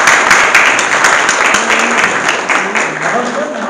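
Audience applause at a memorial evening for Nana Gunia, a steady, full burst of clapping from a crowd filling the room, holding fairly even before easing slightly toward the end.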